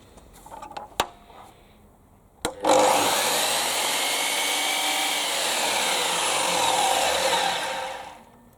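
DeWalt DWS780 miter saw motor kicks on after a couple of sharp knocks, then runs as a steady, loud whine for several seconds before beginning to spin down, with no talk over it.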